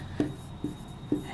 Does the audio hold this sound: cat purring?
no